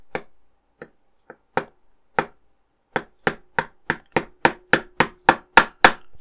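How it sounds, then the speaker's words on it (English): Sharp metallic hammer taps driving pins into metal parts of a model Iron Man Mark III armour, sparse at first, then a quick, steady run of strikes growing louder toward the end, close and with no talking. "Just hammer this into place."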